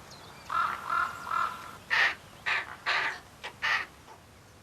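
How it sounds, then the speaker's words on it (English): Ravens calling from high rock walls at a nest with young chicks during the breeding season: a series of about eight harsh, hoarse croaks and caws in uneven bursts, fairly close and clear, with no speech. "High on the rock walls, many pairs of ravens already have young chicks."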